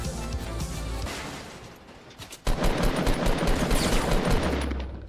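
Rapid automatic gunfire from the Fortnite video game rattles in dense bursts, easing briefly before a loud fresh volley erupts and keeps firing steadily to the end, with no talk.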